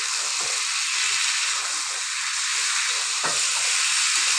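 Two bay leaves sizzle in hot oil while chicken cooks, a bright, steady hiss with a couple of faint clinks from stirring, and no talking.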